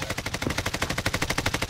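Rapid automatic gunfire in a video game squad match, a fast, steady burst of close, sharp shots at about twelve per second, continuing without pause and alone.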